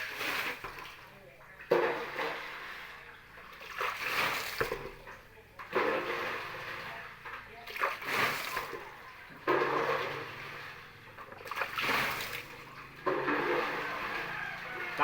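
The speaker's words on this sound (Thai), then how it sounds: "ตาเปียกช่วยจับเลยครับ ปลาไปแล้วครับเอ้ยปลาปลา" Fish raised in large water jars, mostly climbing perch, thrash and splash as they are caught by hand, in repeated watery surges with people talking over them.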